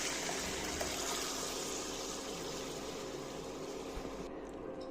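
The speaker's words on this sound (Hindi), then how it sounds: "अब हम इसमें ऐड करेंगे पानी, जितना हमें मैगी के लिए लेना है।" Water pours into a pot for Maggi noodles after masala has been added, a steady close gush and splash that tapers off near the end, with no one talking.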